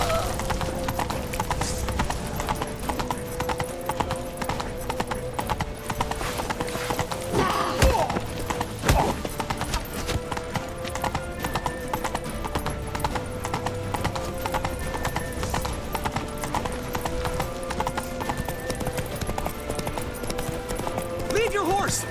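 Horse hooves galloping in the video game The Witcher 3, a fast rhythmic clip-clop running steadily throughout, with game music and shouted voices layered over it.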